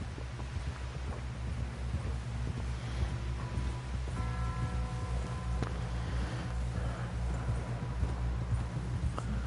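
Horse hooves clip-clop steadily beneath a low ambient rumble and wind in the Red Dead Redemption 2 open world, a soft rhythmic plodding gait heard at moderate distance.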